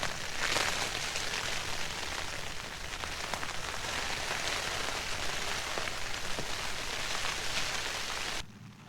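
Heavy rain drums steadily on a tent in a wet, windy wild camp in Scotland, a dense continuous hiss of drops with gusting wind, loud and close, cutting off abruptly near the end.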